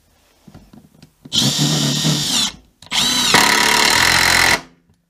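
Two sustained bursts of a Mastercraft 20V brushless cordless impact driver whirring and rattling as it drives into wood, loud and close, separated by a short pause.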